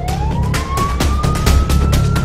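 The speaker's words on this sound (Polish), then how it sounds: "Jak można nie przepuścić karetki na sygnale?" Ambulance siren on a traffic-jammed road, a steady rising wail sounding loud and close, with vehicle engine rumble underneath and no talking.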